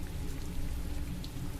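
Steady rain falling through a typhoon night in an apartment, a dense, even wash of drops that continues without a break and with no voices.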